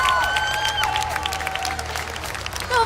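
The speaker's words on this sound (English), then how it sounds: "So send a round of applause" A crowd applauds steadily at an esports grand final, the clapping dense and continuous, with a few whistles and scattered cheers over it.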